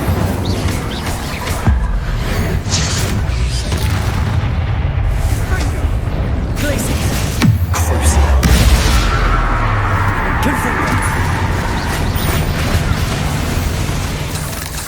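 Rumbling, booming spell explosions from Confringo and Incendio in the video game Hogwarts Legacy, a dense continuous roar with heavy low thuds and crackling bursts, loud and sustained throughout.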